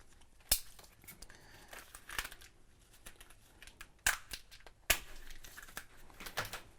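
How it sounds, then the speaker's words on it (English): A razor knife cuts through plastic flex loom for wiring, giving quiet crinkling and a few sharp snapping clicks at close range. "I'm just going to take a little piece, 18 inches long, cut that with a razor knife."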